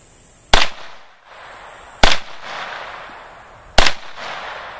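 Three sharp, loud gunshots from a CZ Scorpion Evo 3 S1 ring out at an outdoor range, evenly spaced about one and a half seconds apart, each crack followed by a short echo and background hiss.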